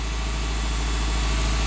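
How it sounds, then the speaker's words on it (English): A Subaru engine with a massive exhaust header leak idles close by, giving a loud, steady drone with a fast, even ticking pulse and no talk. "we have a massive exhaust leak in the header"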